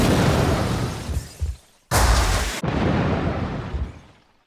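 A video game explosion effect, a big booming burst that fades, then a sudden loud bright blast cuts in, stops abruptly and is followed by a rumbling tail that dies away to silence.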